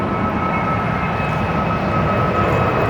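A Jetstar Airbus A320neo (A320-251N) departing runway 14 at Gold Coast, bound for Queenstown, New Zealand, gives a loud, steady jet engine roar with a droning tonal whine throughout, no voices.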